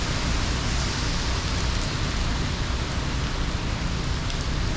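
Heavy rain from Hurricane Ian pours down steadily at Ormond Beach, a dense, loud, unbroken hiss of water with no let-up.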